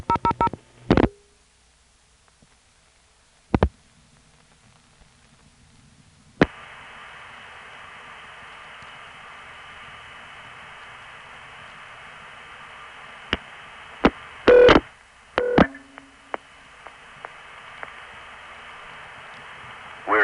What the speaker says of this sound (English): When it goes to the operator, you'll hear a very urban-sounding ringtone.